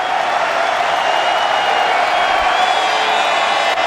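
Large football stadium crowd at a Wellington Phoenix versus Newcastle Jets match, a loud, steady roar of massed voices and cheering filling the air continuously.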